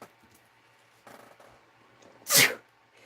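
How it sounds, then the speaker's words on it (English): A single sharp sneeze bursts out close and loud near the end, after a few seconds of near silence with faint shuffling. "I'm going to sneeze."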